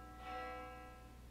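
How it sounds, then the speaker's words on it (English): A bell tolls once in the video game Death Mark 2, a sustained ringing tone with long harmonic overtones that slowly fades, quiet and alone. "That bell again."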